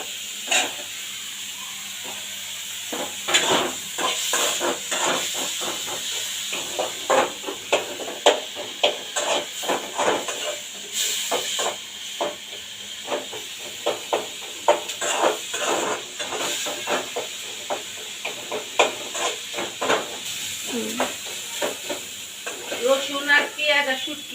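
Onion and garlic frying in a pan for a jackfruit seed dish, with a soft steady sizzle and repeated light clicks of a spoon stirring, while a person talks over it.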